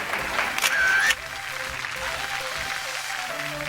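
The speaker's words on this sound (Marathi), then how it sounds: "जोरदार टाळ्या होऊन जाऊ दे." Studio audience on a Marathi television show applauds in a short dense burst of clapping that fades out after about a second, leaving quiet room murmur and faint voices.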